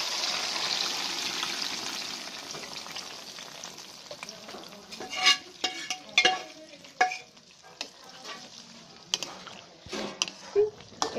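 Fried onions (beresta) tipped into a wok for mutton rezala, with a steady sizzle followed by a run of sharp scraping stirs and clanks of the spatula against the pan, close and fairly loud, with no talk.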